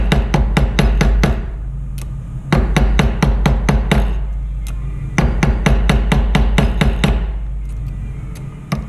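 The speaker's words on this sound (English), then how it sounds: "So I'm just using this part of the hammer so I can see." A jewellery maker's hammer strikes metal in quick, even bursts of sharp ringing taps, several runs of about eight to ten blows with short pauses between them, close and loud.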